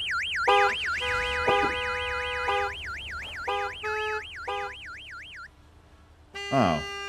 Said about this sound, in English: So the alarms go off if you don't get it?